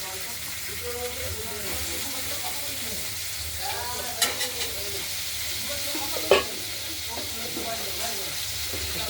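Potatoes fry in hot oil for an aloo fish curry, giving a steady, close sizzle and hiss throughout with a few brief clinks and scrapes of stirring, and a voice speaks faintly underneath.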